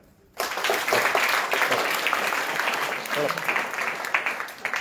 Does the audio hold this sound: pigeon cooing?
no